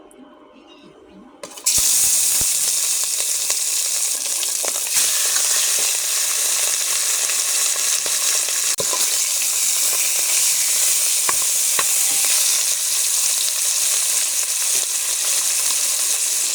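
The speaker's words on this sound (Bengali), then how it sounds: "এখন আমি ইলিশ মাছ ভাজবো। কড়াইতে আমার আগে তেল ছিল, তেল আমার গরম হয়ে গেছে। আমি কড়াইতে মাছ দিয়ে দেবো।" Hilsa fish slides into hot oil in a wok; after a quiet moment a loud, dense sizzle bursts up and holds steady and close for the rest of the time, with no talking.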